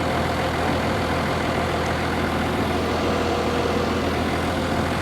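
A bulldozer engine idles in a dense, unbroken low diesel drone that stays loud and even throughout, with no voices.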